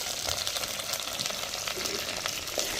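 Garlic, onions and small shallots sauté in a pan for a fish curry, giving a dense, continuous crackling sizzle at an even level close up, with no talking.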